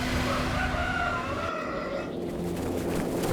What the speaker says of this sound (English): Roosters crow somewhere in the distance.